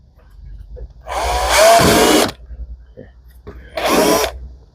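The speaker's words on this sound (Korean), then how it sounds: "이런 스텝 드릴이라고 날이 있어요" A step drill bit bores a hole into a cap or lid, two loud bursts of drilling, the first longer at about a second and the second shorter, close by with a quiet pause between.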